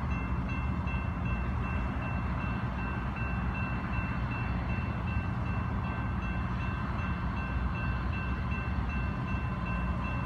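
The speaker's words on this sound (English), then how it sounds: "Here comes the train." A New Mexico Rail Runner passenger train rumbles steadily past at moderate distance near Albuquerque, a continuous low rolling noise with faint steady tones above it.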